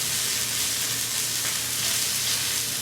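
Cauliflower toasting in a hot pan gives a steady, close sizzle with a constant broadband hiss and no pauses or voices.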